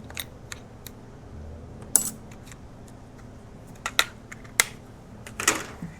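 A blade being loaded into a Hercules 20V cordless jigsaw, sparse metallic clicks and snaps from the blade clamp with a few sharper clacks, close and isolated against near silence.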